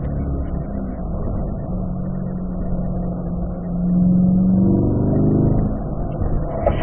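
A race car engine drones steadily on track and then swells as the car accelerates out of a chicane, a continuous mid-pitched roar heard close with no talking.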